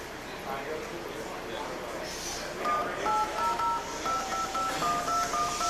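Telephone keypad DTMF tones dialing an 800 information number, a string of short, evenly spaced beeps that grows clearer partway through, while people talk over it.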